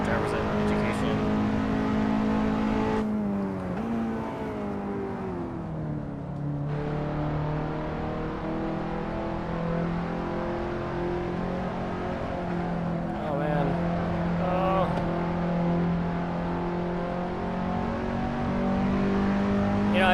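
A ninth-generation car's engine revs on a race track during a driver's education track day, heard close with rising and falling pitch through gear changes and sustained high revs throughout.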